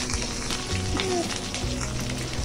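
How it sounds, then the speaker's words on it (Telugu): Tempering spices and curry leaves frying on a low flame for a gongura green chilli chutney, with a dense, continuous sizzle and crackle close by, no talking. "కరివేపాకు కూడా వేసి పోపులన్నీ కూడా దోరగా వేయించి"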